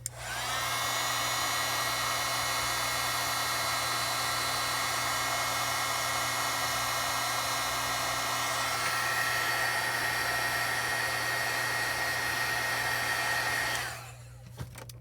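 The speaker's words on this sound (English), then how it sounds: "We're going to go in and heat it up again." Embossing heat tool blows a loud, steady whirring rush while reheating foil on a stamped image, its pitch shifting slightly midway before it switches off near the end.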